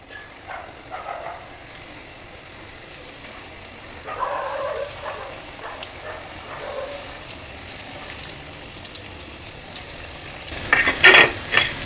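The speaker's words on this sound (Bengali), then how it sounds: "তো আমি এবার একটা একটা করে সব আমি ভেজে নেব।" Chicken fingers dropped one by one into hot oil in a kadai give a steady deep-frying sizzle that swells when new pieces go in, ending with louder crackling and scraping.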